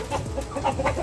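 Egg-laying hens clucking in a barn, a steady stream of close, overlapping clucks and chatter with no speech.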